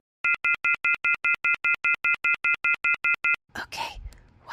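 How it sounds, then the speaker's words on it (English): A landline house phone's off-the-hook alarm, a loud, rapid series of shrill, evenly pulsed electronic tones about sixteen bursts long, close up, then cut off as a voice begins speaking. "It's an off the hook alarm."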